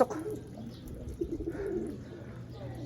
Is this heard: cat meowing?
no